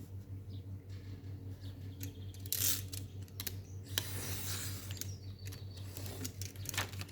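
Scissors snip through paper while an envelope binder is being made, giving several crisp, irregular cuts close by over a steady low hum, with no talking.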